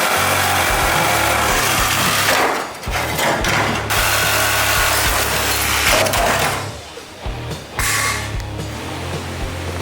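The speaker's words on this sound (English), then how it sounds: "Next, I'm gonna cut out this inner structure here that's rusted on both sides." Power tool cutting through the rusted inner structure of a car body during a scrap-metal fastback build, a continuous loud buzzing, rattling grind that briefly drops out twice before resuming.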